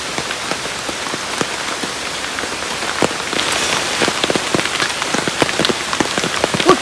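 Steady rain falls on hard surfaces at close range, a dense, loud patter of drops that thickens slightly partway through and carries on with no voices.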